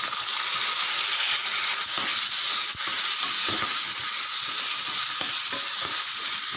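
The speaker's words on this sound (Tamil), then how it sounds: "நல்லா வதக்கி விடுங்க" Small onions and turkey berries fry in hot oil for a South Indian vatha kuzhambu, a steady loud sizzle with faint scraping stirs running throughout, no voices.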